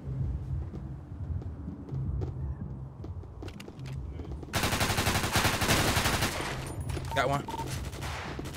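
Bursts of rapid gunfire from a GTA roleplay shootout with gun store employees, dense fusillade erupting midway and running loud for several seconds, with a voice speaking briefly over scattered earlier shots.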